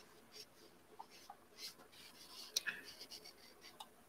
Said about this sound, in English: this is a fabric, permanent fabric marker. And now I can draw in